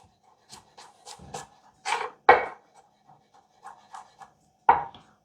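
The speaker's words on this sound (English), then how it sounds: "I like the garlic. Okay, now we chop a little bit." A knife chops garlic on a cutting board in a home kitchen, several quick separate knocks followed by a few louder, more spaced strikes, close and fairly clear with no talking.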